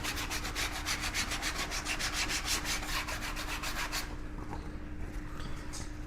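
Brisk rhythmic sandpaper strokes rasp close by for about four seconds, then stop, leaving quieter faint scraping and handling.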